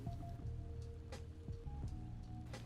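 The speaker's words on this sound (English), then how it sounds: "you can see the rain coming down that turns into the fog" Rain falling in the Armored Warfare video game, a faint steady patter with low rumble and scattered drip-like taps.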